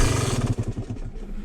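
Hot Yamaha YZ250 two-stroke dirt bike kicked over and catching briefly, a close, loud, uneven engine burble with low pulsing firing that sputters rather than settling into a steady idle.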